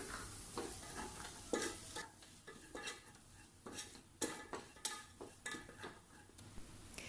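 Chili powder and onions roasting in a pan, a quiet sizzle under repeated sharp clinks and scrapes of a spoon against the metal, irregular strokes every half second or so, close by with no voices.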